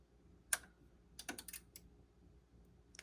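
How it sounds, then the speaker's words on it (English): Yamaha A-S1200 integrated amplifier powering on: one sharp relay click, then a rapid cluster of small clicks about a second later and a final click near the end, close and quiet with no talk. "I love when you turn this on and the clicking that happens. It's a whole bunch of rapid relays, not just one click."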